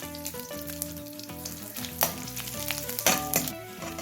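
Cinnamon and dried red chillies fry in hot oil, giving a low, steady sizzle with a few sharper crackles and stirring knocks, set beneath tonal background music.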